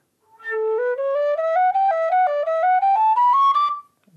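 A tin whistle in A plays a rising scale, clear bright notes stepping upward one after another alone, ending on a sustained high note.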